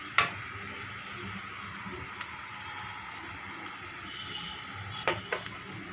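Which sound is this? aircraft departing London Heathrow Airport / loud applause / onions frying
onions frying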